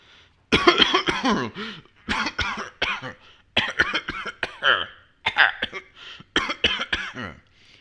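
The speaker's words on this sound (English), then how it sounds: "How long have you had that cough?" A run of harsh, hacking coughs in several bursts, some in quick clusters, loud and close, with short pauses between fits.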